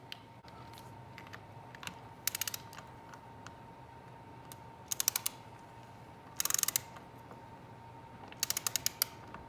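Tightening work while installing an oil seal on a KX450 motorcycle comes through as small, sharp ratcheting clicks in short clustered bursts, close and fairly quiet over a faint steady hum.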